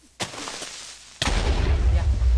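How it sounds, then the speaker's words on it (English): Minecraft creeper explosion in the game, two sharp booming blasts about a second apart, the second followed by a heavy rumbling roar, with a voice talking. "Oh, I heard a creeper. That scared me. Explosion."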